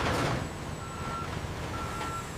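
A truck reverses in a loading bay, its warning beeper sounding a steady run of high, evenly spaced beeps over a constant engine rumble and broadband yard noise, fairly loud and close.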